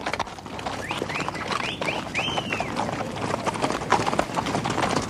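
Horse hooves clip-clop steadily along a trail ride toward a mission, a brisk repeating rhythm close by with birds chirping and light outdoor ambience around it.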